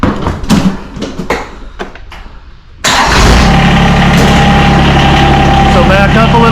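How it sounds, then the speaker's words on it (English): A John Deere X758 lawn tractor engine starts after some quieter handling noises, then runs loudly and steadily at close range. "you'll be able to back off the deck with the machine"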